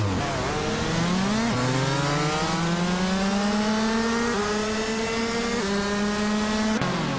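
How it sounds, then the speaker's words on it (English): Race cars roar off the line at the Berlin E-Prix, a 2012 supercar leading; a loud, continuous engine drone climbs steadily in pitch with brief dips at gear shifts, close and constant for the whole stretch. "Hingle McCringleberry in a 2012 supercar is taking the lead right off the line here at Berlin E-Prix"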